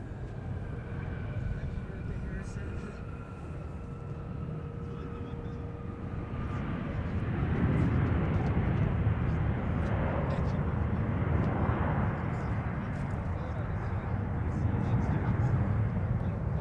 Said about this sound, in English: And here comes an Embraer from the Mayo Clinic, Rochester.